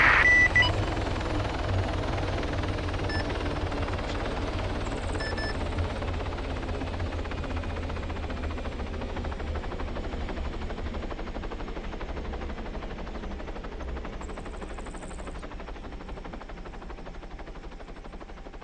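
An Arma 3 helicopter spooling down gives a steady, close engine whine over a deep rotor drone. It runs continuously throughout and eases off only slightly toward the end.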